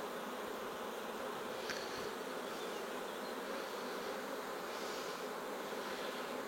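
Honeybees buzzing loudly and steadily inside an open hive during spring work, a dense continuous drone with no voices over it.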